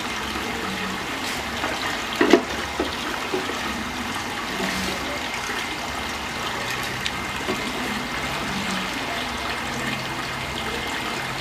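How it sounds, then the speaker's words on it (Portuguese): A block of ice is placed into a small volume of aquarium water, about 80 litres, with a sharp splash and plop near the start. A steady trickle and pump-like water background runs throughout, with no talking. "nós vamos colocar essa pedra de gelo nesse pequeno volume de água do aquário"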